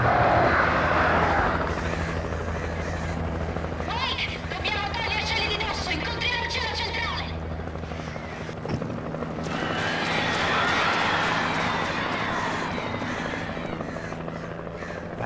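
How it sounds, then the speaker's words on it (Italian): Helicopter in the video game Alan Wake, a steady mechanical rotor drone running loud throughout, with layered game effects and busier bursts over the top, while players talk. "Con l'elicottero, prego."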